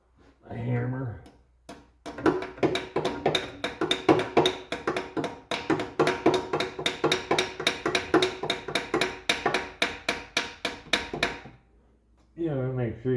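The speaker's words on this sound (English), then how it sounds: "A hammer." A hammer taps engine parts during reassembly after an AFM delete, delivering a long run of quick, evenly spaced metallic knocks up close, with brief talk before and after.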